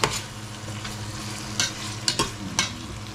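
Ginger frying and browning in hot cooking oil, crackling and spitting in a close, busy sizzle punctuated by several sharp pops and stirring scrapes.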